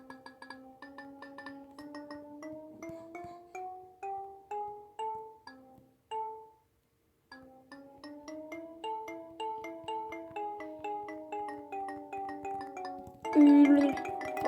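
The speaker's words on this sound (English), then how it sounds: "xylophone." Xylophone notes are played in Bongo Cat, a steady run of clear struck tones climbing and falling in melodic phrases, briefly pausing, then resuming with a louder flurry at the end.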